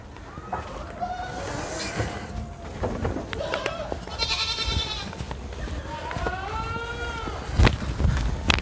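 Boer goats on a farm in Nepal bleat several times at close range, with rustling and thuds around them and someone speaking in between.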